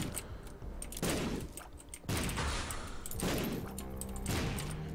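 Penetrating gunshots in a video game come in rapid, dense bursts of gunfire, with loud volleys separated by brief lulls, heard up close and without any voices.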